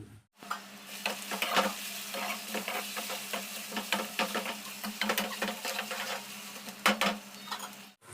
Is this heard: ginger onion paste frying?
yes